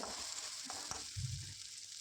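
Diced potatoes frying in a pan with fenugreek leaves for aloo methi sabji, a steady close sizzle and crackle with a few soft stirring bumps, no voices.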